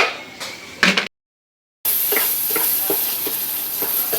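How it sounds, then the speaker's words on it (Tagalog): Tomatoes sautéing in a pan, softening and being pressed down. A steady close sizzle runs under repeated soft scraping stirs, broken by a brief total silence, with no talking. "pabayaan lang natin lumambot ang ating kamatis bago natin i-press ng kaunti."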